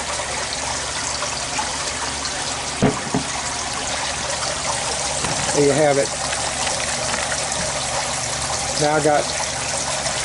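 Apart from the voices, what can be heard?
water flowing out of a pipe with air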